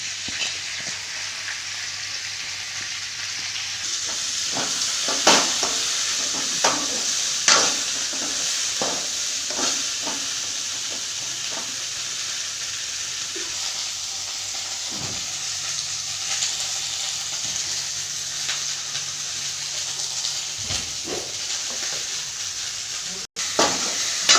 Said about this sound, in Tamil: எண்ணெய் ஊற்றிருக்கேன் வெண்டைக்காயை போட்டு வதக்கப்புறேன்